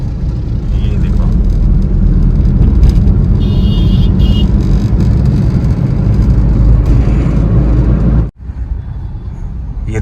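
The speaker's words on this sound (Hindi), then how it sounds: "ये है दिल्ली का जाम।" Heavy Delhi traffic jam near a flyover on the road from Gurgaon: a dense, continuous rumble of car engines and road noise, loud and close, with a brief dropout near the end.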